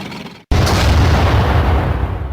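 A single loud explosion from a tank blowing up a stone, with a sharp onset and a broad, booming roar that stays strong and rumbling for about two seconds after a brief moment of quiet.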